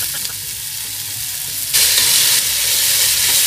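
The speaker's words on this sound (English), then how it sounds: "So, lagay na natin yung tomatoes." A loud, hissing sizzle rises suddenly as chopped tomato goes into a pan of sautéed onions for chicken caldereta, then keeps frying steadily; no voices.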